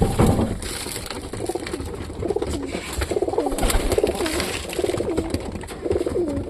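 A flock of satin pigeons coos steadily and softly while feeding, overlapping calls forming a continuous murmur, with light rustling throughout.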